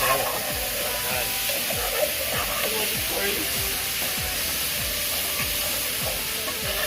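Curry sizzles and fries in a pot for Trinidad-style curry chicken, a steady loud hiss with repeated stirring scrapes at a regular rhythm, and voices talking faintly underneath.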